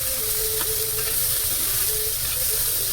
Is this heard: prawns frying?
yes